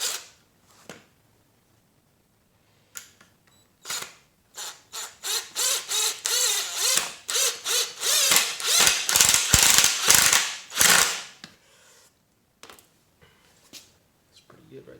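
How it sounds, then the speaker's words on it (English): A screw is driven by hand into a wooden tapestry frame, giving a run of close, rapid ratcheting clicks and creaks in quick bursts, then a few isolated taps as it seats. "we'll take our screw and screw that in"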